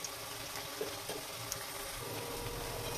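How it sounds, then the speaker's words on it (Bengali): Lentil pakoras frying in oil in a kadai, a soft, quiet sizzle with faint crackles and a few small clicks, steady throughout. "সব পকোড়া উল্টে দিয়েছি, আর একটু ভেজে নিয়ে তুলে নেব।"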